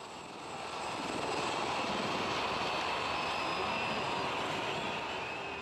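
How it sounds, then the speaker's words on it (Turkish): Military display helicopters fly overhead in Egypt, a steady broad engine roar that swells in and holds at a constant level throughout. "Askeri yönetim altında ilk gün sona ererken gösteri helikopterleri sahnede."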